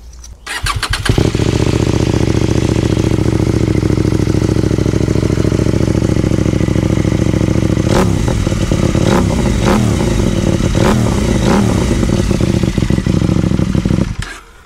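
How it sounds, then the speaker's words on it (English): A CFMOTO IBEX 800 motorcycle's exhaust fires up close and loud, settles into a steady idle, then several quick throttle blips rise and fall before the engine cuts off. "And since we are talking about exhausts, let's have a quick sound check, right?"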